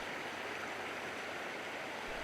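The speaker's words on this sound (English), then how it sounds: "All that flowing water forming alternating sheets of ice that catch the" Flowing water of a small creek lined with green moss and forming sheets of ice, a steady broadband rush and gurgle that holds at an even level throughout with no talk.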